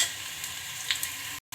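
Salt, turmeric and green chili paste frying in a pan over fried onions, giving a steady soft sizzle with a couple of faint stirring clinks, cut off by a short gap of silence near the end.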